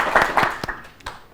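Applause from a studio audience at an Ethiopian children's quiz show, clapping for contestants after an answer is revealed; a brief, moderately loud burst of hand claps that thins out within about a second.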